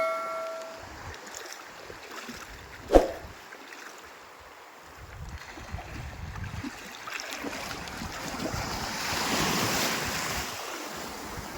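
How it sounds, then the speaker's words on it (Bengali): Waves rolling in as the tide enters a river mouth at Mousuni island, a steady broad wash of surf with wind buffeting, swelling louder toward the end, one sharp knock near the start. "ঢেউ চলছে, জোয়ার প্রবেশ করছে"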